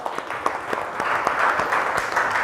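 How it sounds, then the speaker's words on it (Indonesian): Classroom audience of vocational school students applauding, a short burst of dense clapping that holds steady at close range. "aplaus."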